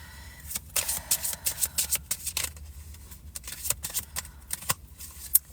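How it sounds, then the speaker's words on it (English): Tarot cards are riffled and shuffled inside a car in rapid bursts of crisp flicking, close up, with short pauses between shuffles. "It's so hard to shuffle in the car"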